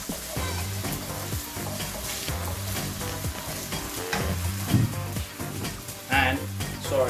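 Potatoes hitting hot oil in a pan for sabudana khichdi, a loud steady sizzle with stirring clatter, and a voice speaks briefly over the frying.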